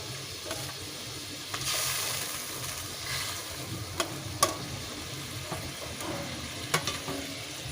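Bhola fish pieces slide one by one into a pan of hot spiced gravy with a little water, giving a steady close sizzle and hiss with faint stirring clicks and a few brief sharp pops.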